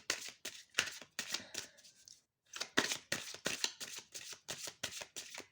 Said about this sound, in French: j'ai envie de vous faire une coupe avec Mademoiselle Lenormand.